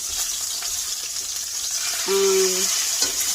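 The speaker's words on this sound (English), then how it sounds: "this is what I like to do with my fish as it's cooking" A salmon fillet fries steadily in a pan with a soft, continuous crackling sizzle, close and even throughout, with a brief tonal hum partway through.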